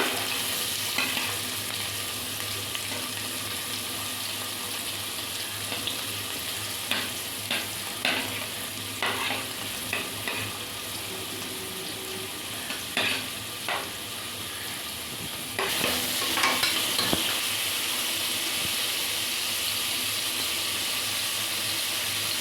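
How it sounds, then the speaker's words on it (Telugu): Onions fry in hot oil inside a pressure cooker, a continuous close sizzle broken by occasional stirring clatters and scrapes, growing a bit louder toward the end. "దాంట్లో ఆయిల్ వేసుకోవాలి చూడండి ఆనియన్స్ వేస్తున్నాను నేను"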